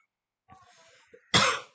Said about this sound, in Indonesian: saya lagi batuk ya.